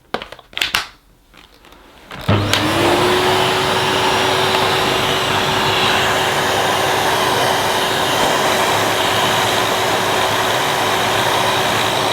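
A Numatic Edward turbo vacuum cleaner with a turbo electric head, a few clunks and handling knocks before the motor starts, then a loud, steady whirring drone with a constant tonal whine.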